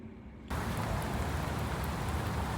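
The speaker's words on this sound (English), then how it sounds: "a little rainy here today" Rain falling outdoors at night in Milwaukee, a dense, steady hiss of drops that starts abruptly after a quiet moment and carries on loud and close, with no talking.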